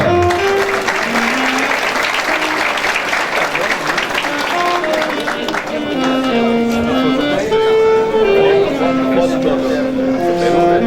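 Audience applause for award recipients at a commendation ceremony in Ouro Preto fills the scene, a sustained dense clapping under steady musical tones, loud and continuous throughout.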